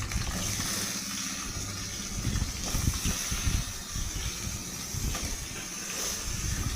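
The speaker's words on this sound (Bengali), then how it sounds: "আর আলুগুলো ভেজে নিচ্ছি।" Steady hissing sizzle of potatoes frying in hot oil, with low bubbling and crackling throughout and no voices.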